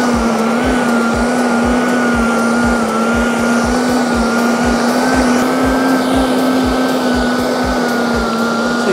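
Sun Joe electric lawn dethatcher running over a lawn with its tines set at the lowest height, a loud steady motor whine with a constant tone and rapid rhythmic thumping from the tines, continuous throughout with no talk.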